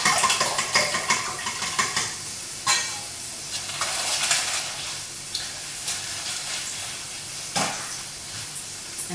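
Eggs with goat cheese and shredded cheese are stirred or beaten in a bowl for oven-baked scrambled eggs: a steady, fairly loud run of rapid scraping and clicking with a few sharper knocks of the utensil against the side.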